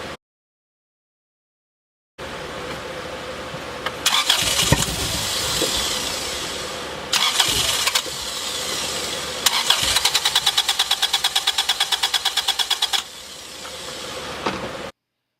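A car with its fuel pump unplugged cranks and catches after a silent start, then idles and revs roughly, stalling and restarting with loud pulsing bursts and a rapid rhythmic ticking near the end, close to the microphone.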